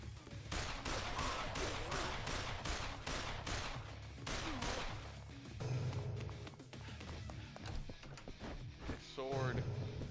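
Gunshots ring out in Yakuza Kiwami 2, a rapid run of about a dozen sharp, evenly spaced shots followed by sparser impacts and game sounds, with a voice talking intermittently.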